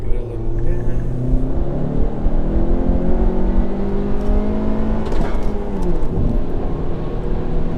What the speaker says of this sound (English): I'm gonna see what this turbo can do.